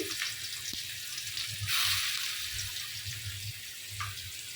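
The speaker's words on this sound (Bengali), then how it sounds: "আমি মাছ বেজে নিচ্ছি" Spice-marinated fish frying in a pan, a steady soft sizzle with a sharper hissing surge partway through, fairly quiet and close, with no talking.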